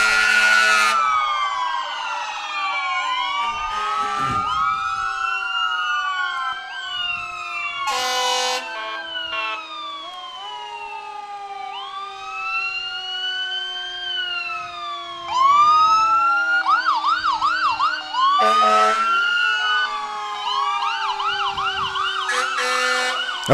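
Fire department truck sirens from the Herman Rural Fire Department in a town parade, several overlapping wailing and yelping sirens sounding loud and continuous, with brief bursts of an air horn between them.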